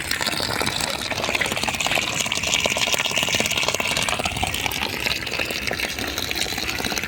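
Water pumped from 25 feet by a 12V DC pressure motor pump, a loud, steady gushing spray of water flowing hard throughout with a constant rushing texture.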